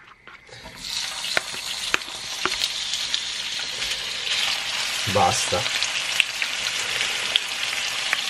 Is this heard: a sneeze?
no